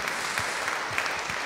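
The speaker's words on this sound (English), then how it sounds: "you can clap and encourage Ellis." A church congregation at a Sunday service applauds with steady, dense clapping, heard at moderate distance and fairly soft throughout.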